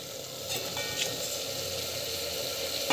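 Peas and chopped vegetables sauté in a hot pan for a peas gravy, giving a steady, close sizzling hiss that holds evenly throughout with no talking.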